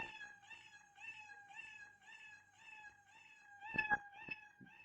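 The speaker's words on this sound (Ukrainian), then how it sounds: "Досягнувши жовто він нявкає, а досягнувши синього кольору, він гавкає" The Scratch cat sprite in a school coding project gives a quiet string of synthetic meows, about half a dozen in an even, looping rhythm with no other sound.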